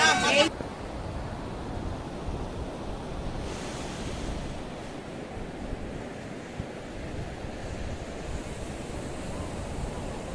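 Ocean surf rolls in at a sandy beach in a steady, wide wash of breaking waves with some wind noise on the microphone, loud and continuous after a brief sharp bump at the start.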